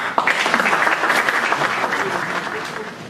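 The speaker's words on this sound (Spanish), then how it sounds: "el doctor Martín García, a quien le damos una bienvenida muy especial y un aplauso." An audience at a pension and insurance seminar applauds to welcome a speaker, a dense, even burst of many hands clapping that starts sharply and tapers slightly toward the end, with a faint voice underneath.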